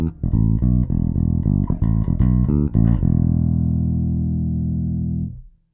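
A bass guitar through the Super Flat amp model of a Roland Cube 100-watt combo plays a run of clean, punchy plucked notes, then lets a final low note ring and fade out.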